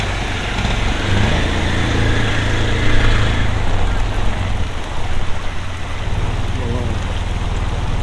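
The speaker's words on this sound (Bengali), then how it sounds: "প্রচুর বৃষ্টি হচ্ছে" Heavy rain pours steadily around people sheltering inside an auto-rickshaw, a dense, loud hiss of drops with low rumbling underneath, continuous throughout the clip.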